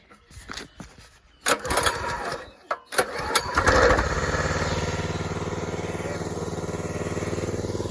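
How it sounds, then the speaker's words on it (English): Petrol pressure washer engine being pull-started with some throttle: a few sputtering tugs and bursts, then it catches and settles into a steady, loud, close idle hum that runs unbroken to the end. "she starts fairly easy otherwise"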